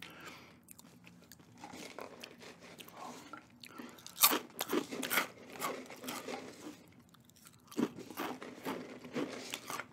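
Close, crisp crunching of whole grain Sun Chips followed by soft chewing, with irregular loud bites over a quiet background and no talking.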